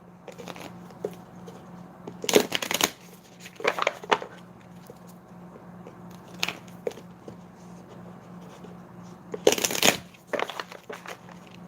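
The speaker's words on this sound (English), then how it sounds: "Let's get 3 more shuffles." Oracle card deck being shuffled by hand, with short papery riffles and snaps in a few bursts separated by quieter rustling and a low steady hum.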